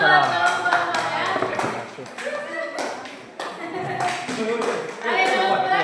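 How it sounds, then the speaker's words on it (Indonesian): Students in a classroom clap for a presenting group, bursts of scattered handclaps rising and fading across several seconds, mixed with voices of a teacher and pupils talking over them. "Ayo tepuk tangan lagi ya."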